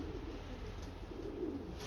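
Pigeons in a loft coo softly and continuously, a low steady murmur of overlapping calls close by, with no voices.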